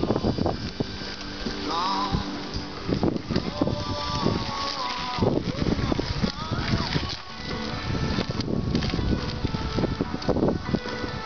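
Wind blows steadily by a lake at an outdoor spot during a bicycle camping trip, buffeting the microphone with low rumbling gusts while a person talks over it.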